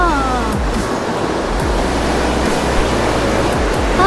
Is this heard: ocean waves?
yes